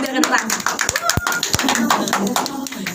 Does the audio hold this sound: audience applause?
yes